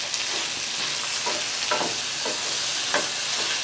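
Chopped tomato for a small-onion chutney sautés in a hot pan with a dense, even sizzle, while soft spatula strokes scrape through it every half second or so.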